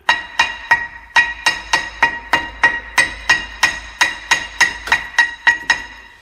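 Steady hammer blows tap a rusted rear brake rotor off a 2002–2010 Ford Explorer, about seventeen sharp metallic strikes at an even rhythm, close and clear with a ringing tone and no talk.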